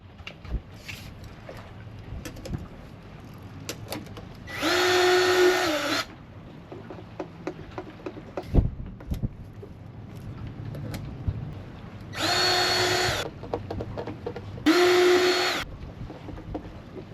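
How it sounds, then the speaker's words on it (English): A power drill whines in three short, high-pitched bursts while enlarging a hole aboard a boat during a watermaker installation, with quiet clicks and handling noises between bursts. "Just have to drill the hole a little bigger"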